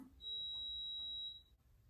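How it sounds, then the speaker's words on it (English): A home coffee maker signals that brewing is finished with one steady high electronic beep lasting about a second, clear and close in a quiet room. "my coffee's done. It's beeping."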